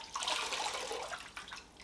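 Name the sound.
wet knitting lifted out of water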